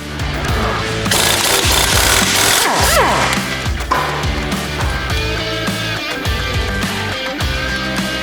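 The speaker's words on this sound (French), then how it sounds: "on va pouvoir enlever l'écrou du cardan" Loud, continuous rattling hammer of a pneumatic impact wrench loosening the drive shaft nut on a microcar (voiture sans permis) during front brake disc replacement, running steadily for several seconds with no talk.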